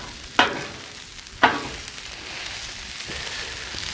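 Shrimp fried rice on a Blackstone griddle, two sharp scraping sizzle bursts from spatula strokes over a quieter steady frying hiss, heard close with no voices.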